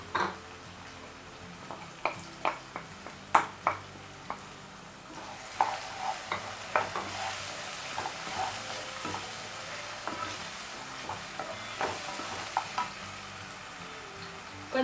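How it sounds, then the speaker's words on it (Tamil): Coriander and chicken paste sizzles in hot oil in a pan while being stirred, with steady frying hiss and frequent sharp scraping ticks of the spoon throughout, no talk. "ஒரு 2 நிமிஷம் எண்ணெயிலே நல்லா வதங்கட்டும்"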